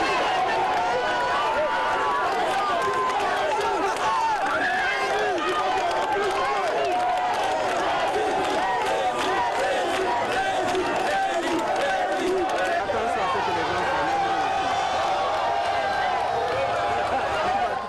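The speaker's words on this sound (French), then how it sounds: "C'est une foule immense qui réserve un accueil affectueux au professeur Alpha Condé." A huge crowd gives Professor Alpha Condé an affectionate welcome in Mamou, a continuous roar of cheering and chatter with scattered clapping and a voice carrying over the din throughout.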